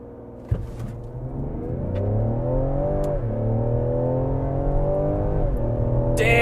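A 2020 Ford Explorer ST with a 400-horsepower twin-turbo 3-liter V6 accelerates hard at full throttle, its engine note climbing steadily in a loud, sustained pull from inside the cabin, with a brief thump near the start.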